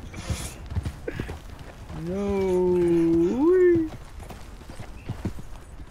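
Horses in Red Dead Online stamp and clop, and one lets out a loud, rising and falling neigh in the middle. People talk in the background.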